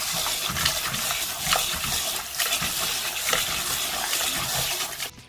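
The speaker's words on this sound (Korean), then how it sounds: "이렇게 찬물에 씻어서 밀가루 냄새를 날려주고요. 손으로 바락바락 문질러줘야 됩니다." Cold water runs and splashes in a steady stream while chewy Korean wheat noodles are rubbed and scrubbed hard by hand, giving continuous close wet rushing with soft squelching pulses.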